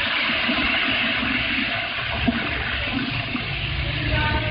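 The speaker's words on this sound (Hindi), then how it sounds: "इसमें अदरक और लहसुन का पेस्ट फ्राई करेंगे" Ginger garlic paste frying in hot ghee, a steady loud broadband hiss and crackle of sizzling that runs unbroken through the whole stretch, with no talking over it.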